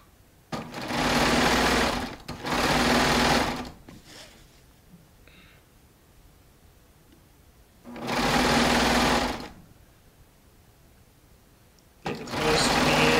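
A Baby Lock Triumph serger running a 4-thread seam on Shannon Cuddle fabric whirs in close, steady bursts: two runs back to back, a pause, then another long run and a final start.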